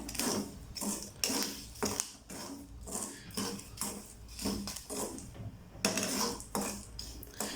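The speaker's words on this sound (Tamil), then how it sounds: "10 செகண்ட் ஆனதும் இந்த மாதிரி நல்லா மிக்ஸ் பண்ணிகிட்டே இருங்க" Chickpeas roasting in a hot pan are stirred with a metal spoon, giving repeated rattling scrapes and clinks against the pan in an uneven rhythm, close and moderately loud, with no talk.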